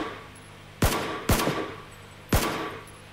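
In-game gunfire in PUBG on Xbox One: three loud, sharp shots at uneven intervals, each with a ringing tail, over a low steady background.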